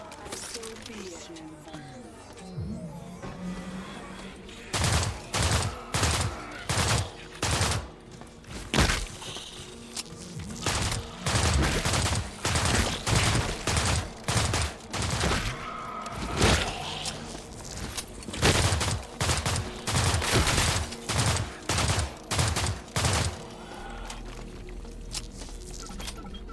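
Repeated rifle shots in a video game, a long run of loud, sharp bursts fired in quick irregular volleys, with a voice talking over parts of it.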